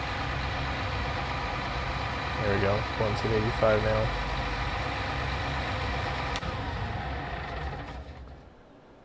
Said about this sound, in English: I like this tractor.